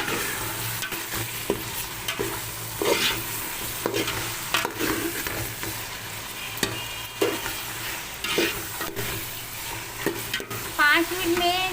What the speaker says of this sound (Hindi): पाँच मिनट में इस चिकन को इन मसालों के साथ भूनूंगी